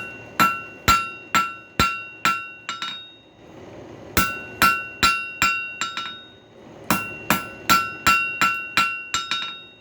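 Hammer blows planishing a hot forged round steel taper on an anvil, in three quick bursts of about six ringing strikes each, with metallic clinks and short pauses between the groups.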